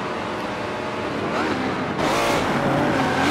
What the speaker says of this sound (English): Golden Gates still gaining more positions, as he's now passing the green Chevy.